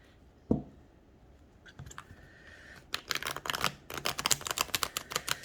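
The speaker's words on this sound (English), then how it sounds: "So we'll give this a little bit of a shuffle" Long Lost Tarot cards are shuffled by hand in quick, crisp riffling flutters that come close and moderately loud after a quieter start, with no talk.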